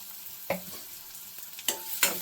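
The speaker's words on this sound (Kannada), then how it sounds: "ಓಕೆ, ಈರುಳ್ಳಿ ಬೇಯ್ತು." Onions fry quietly in a pan under a soft hiss, with a few scattered spatula scrapes and clanks standing out over the sizzle.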